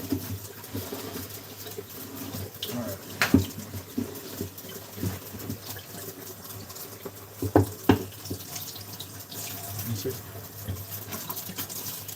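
Tap water runs steadily into a kitchen sink while things are rinsed during home cooking, a continuous splashing wash with a few sharper knocks and clatters from handled items. Voices are heard faintly at times.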